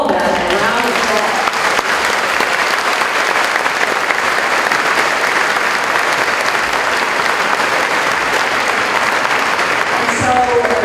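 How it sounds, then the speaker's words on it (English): Sustained applause fills a college convocation ceremony as a large crowd claps steadily and loudly for about ten seconds, with a voice briefly heard at the start and end. "Let's give all of them a round of applause."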